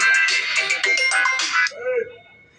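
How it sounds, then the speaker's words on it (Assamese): A mobile phone plays a bright, loud ringtone for an incoming call, a rhythmic melodic tune close by that stops after less than two seconds, followed by a quieter voice-like sound. "ফোন আহি গ'ল"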